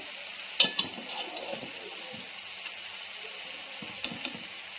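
Chili-powder masala being sautéed and stirred in a pan for a rohu fish-head biryani gives a low, steady sizzle, with a few soft spoon scrapes near the start and again toward the end.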